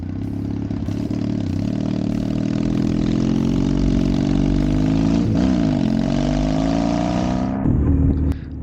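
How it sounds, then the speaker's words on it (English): A custom Triumph T100 Bonneville with a loud exhaust and a loss of power is ridden, its engine droning steadily and rising in pitch, with a brief dip as if shifting, then easing off near the end. "the first proper ride on my down and out custom Triumph T100"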